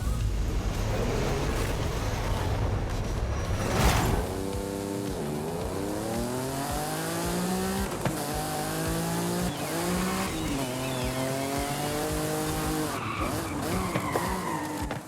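Lamborghini race car in Forza Horizon 5 with a loud, continuous engine note that climbs and drops through gear changes. Tires skid and squeal in bursts, with a sharp hit near the fourth second.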